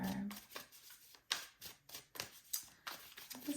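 Tarot cards are shuffled by hand in a quiet series of soft, papery riffles and taps, each burst separated by short pauses, close and faint.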